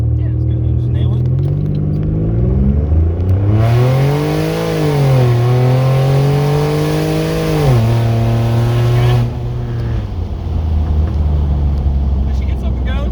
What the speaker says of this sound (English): just let go of the brake and full throttle it